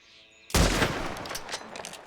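A single loud rifle shot fired at a wolf in Colorado cracks out after a quiet lead-in, followed by a long rolling echo that decays over the next second and a half.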